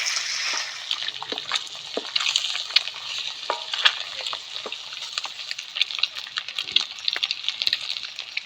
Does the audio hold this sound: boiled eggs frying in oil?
yes